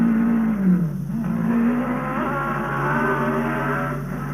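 A Honda racing motorcycle at the 1966 Isle of Man TT near Ballaugh roars past close by. Its loud engine note slides down in pitch as it passes, then holds a sustained high whine.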